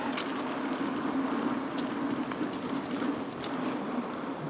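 A steady low rumble of a passing train fills the whole stretch, with rhythmic clacks from the wheels over the rail joints.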